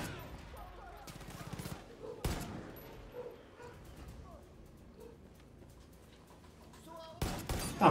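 Gunfire in Far Cry 5 on Xbox One in arcade mode, with a few sharp shot bursts near the start, middle and end amid quieter game sounds, under someone talking.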